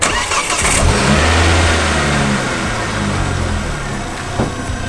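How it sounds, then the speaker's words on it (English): A Ford Focus ST MK2 engine cranks and fires up nearby, then settles into a steady, rumbling idle that holds for several seconds. "I'll get you to start the car up and manoeuvre it"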